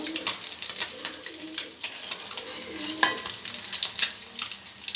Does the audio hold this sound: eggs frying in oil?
yes